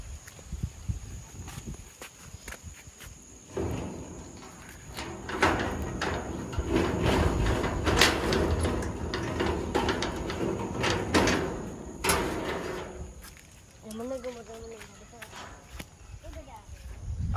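A gate to a land plot in Vattakachchi, Sri Lanka is opened with a loud, rough scraping and rattling that lasts several seconds. People talk over and around it outdoors.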